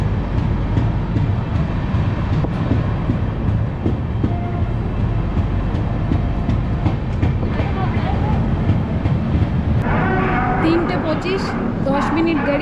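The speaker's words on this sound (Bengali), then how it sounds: "গাড়িতে ট্রেন এলো আসানসোলে" A long-distance Kolkata to Jammu Tawi express pulls into Asansol station, a loud continuous low rumble of rolling wagons with rhythmic wheel clatter; voices and platform noise rise toward the end.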